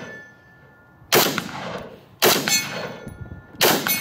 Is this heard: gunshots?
yes